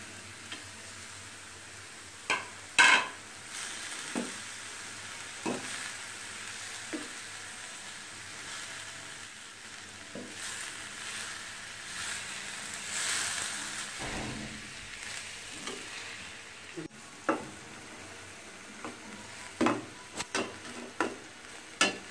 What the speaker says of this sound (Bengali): এখন আমি দিয়ে দিচ্ছি কেটে রাখা পুঁইশাক।